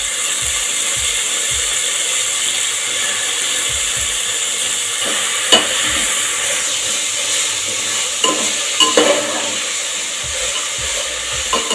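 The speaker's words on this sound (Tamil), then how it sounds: "இந்த மாதிரி நம்ம நல்லா வதக்கி விடணும்" Drumstick stems with cloves and cinnamon sautéing in a deep pan, a continuous loud sizzle with regular scraping and tapping strokes of the spoon, no talking.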